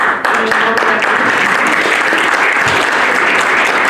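An audience claps and applauds after a sales talk, a loud, continuous wash of many hands at an even level throughout.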